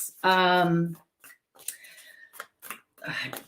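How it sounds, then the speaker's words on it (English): Tarot cards being shuffled, a brief riffling burst at the start followed by speech. "the cards are taking a long time to shuffle"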